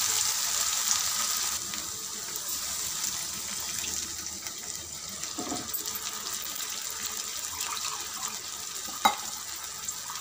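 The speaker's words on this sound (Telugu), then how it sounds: "కొన్ని నీళ్ళు కూడా పోసుకుందాం." Water poured into a pan of poppy-seed curry paste simmering on a stove, giving a steady hiss and sizzle with faint stirring and a sharp clink near the end.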